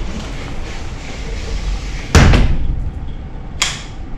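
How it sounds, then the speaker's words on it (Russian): A hotel room door at a five-star resort in Bophut, Samui, shuts with a loud thump, followed by a second lighter knock and a sharper click about a second and a half later, over steady background noise. "Сейчас попробуем закроем дверь,"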